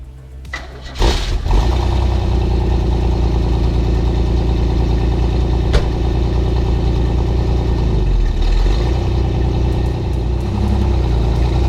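A Pontiac Fiero GT engine starts with a brief crank and catches, then runs at a steady, loud idle close by for about ten seconds, with a faint click partway through and no talking.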